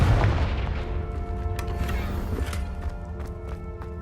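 A Confringo blasting spell in Hogwarts Legacy detonates with a heavy, booming blast at the start, then rumbles and fades under scattered clatter and footsteps.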